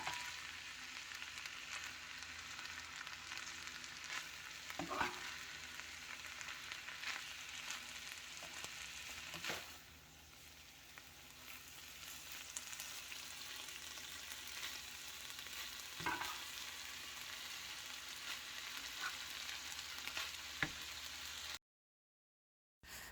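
Chicken empanada filling with green peas sizzles and fries steadily in a pan while a spoon stirs it, giving occasional soft scraping taps over the constant low hiss; no talking.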